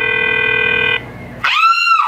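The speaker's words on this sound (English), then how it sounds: "Waiting for her phone to ring." Telephone ringing heard through a phone on speakerphone, a steady electronic ring tone followed by a short pause and a second tone burst, loud and close.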